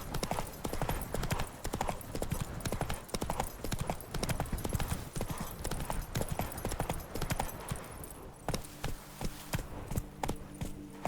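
Galloping horse hooves in The Witcher 3: Wild Hunt – Blood and Wine clip-clop in a fast, steady rhythm throughout. Near the end a low tonal hum of game ambience joins the hoofbeats.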